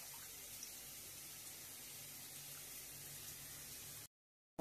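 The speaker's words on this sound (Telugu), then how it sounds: "కొంచెం వాటర్ పోసుకుంటే" Water pours steadily into a pot of tamarind rasam in a home kitchen, a soft, even hiss that runs unbroken for about four seconds, then cuts off abruptly.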